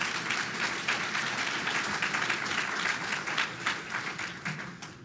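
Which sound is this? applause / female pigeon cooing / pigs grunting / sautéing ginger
applause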